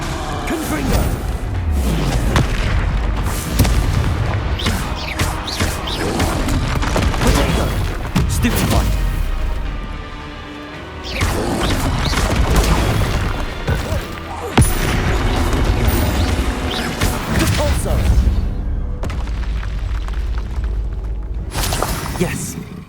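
Expelliarmus spell blasts in the Hogwarts Legacy video game: heavy booming impacts and crashing bursts repeating through a loud, dense combat soundscape, with a brief lull midway and speech in places.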